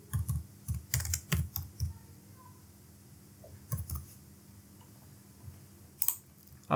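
Short runs of computer keyboard key presses as a mobile number is entered into an online form, a quick cluster at first, then sparse isolated clicks in a quiet room.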